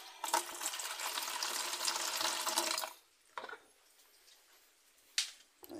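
Tap water gushes into a bucket of corn for soured fishing bait, a loud continuous rush for about three seconds that then cuts off, followed by quiet and a few brief clunks.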